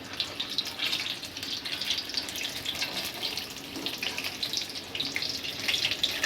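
Pakora batter fries in hot oil, a steady, dense sizzle and crackle that continues unbroken at a moderate level.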